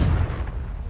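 A Confringo blasting spell cast in Hogwarts Legacy lands as a loud, low booming burst right at the start, then settles into a rumbling tail that fades over about a second.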